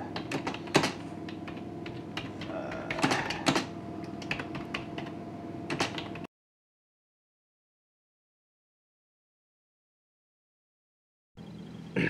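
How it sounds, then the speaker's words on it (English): Basic finger typing on a computer keyboard by someone with Dupuytren's contracture: a steady run of close, crisp key clicks for about six seconds, then a silent gap before a few more taps resume. "basic finger typing"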